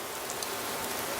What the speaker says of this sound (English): It's always raining outside